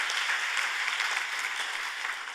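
Dense, steady applause from a large audience fills a political forum plenary hall as speakers are welcomed, an even wash of clapping throughout that fades slightly at the end.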